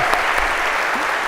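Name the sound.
audience applause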